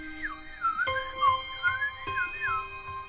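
A person whistles a warbling, birdlike melody of rising and falling trills, steady and clear, imitating a bird singing outside a window, with no talk.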